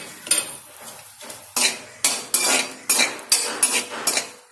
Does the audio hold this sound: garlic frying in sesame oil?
yes